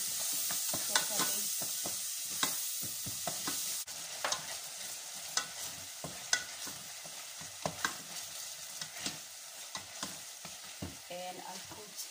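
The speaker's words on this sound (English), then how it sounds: "And I'll continue to mix them properly." Onions and spices with ginger, cinnamon, thyme and rosemary fry in a pot while being stirred, steady sizzling under repeated close scraping and clacking of a spoon against the pot, with no talking.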